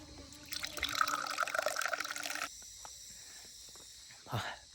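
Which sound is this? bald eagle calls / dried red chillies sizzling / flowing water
flowing water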